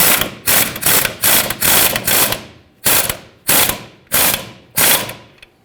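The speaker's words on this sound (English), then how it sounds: "Put the mounting nut on. 18mm socket, tighten this up." A ratchet with an 18mm socket tightens a mounting nut on the front suspension of a 2007-2014 Chevrolet Silverado 2500 HD, giving about seven sharp, loud bursts of rapid pawl clicking in even strokes with short pauses between.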